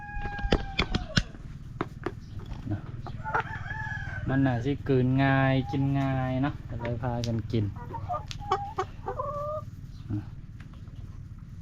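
A rooster crows loudly in one long drawn-out call among laying hens that cluck around it, with a person talking nearby before and after.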